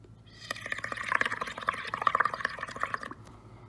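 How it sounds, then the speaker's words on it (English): Water is poured into a bubble paint mixture, about half a cup, giving a steady trickling, splashing pour of about two and a half seconds at close range with no talking. "And then we're going to pour our water in."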